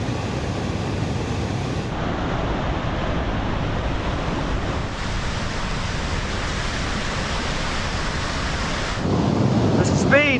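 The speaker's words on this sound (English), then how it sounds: "apparently this is a really, really good waterfall" A powerful waterfall roars in a loud, dense, unbroken rush of falling water, with wind buffeting the microphone; the roar surges slightly louder near the end.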